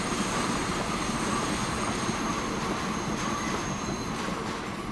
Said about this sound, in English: Goodbye, train.